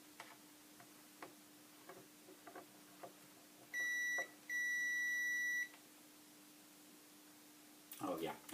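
Touching the probes on a Tevo Tarantula 3D printer sets off two clear electronic beeps, a short one then a longer one, over faint ticking and a low hum, with a brief clatter near the end.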